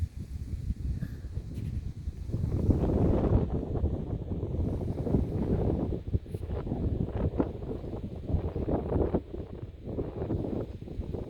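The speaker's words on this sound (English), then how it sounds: "really nice nice breeze blowing up here" A breeze buffets a microphone on a hilltop in Rancho Santa Fe, California, giving a loud, steady rumble that surges and eases. No one speaks.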